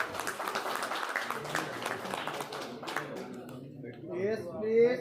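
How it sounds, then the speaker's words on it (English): Audience claps at a medical conference after a surgery professor is introduced, a brief, moderate patter that fades under overlapping talk near the microphone. "Everyone please give a big round of applause."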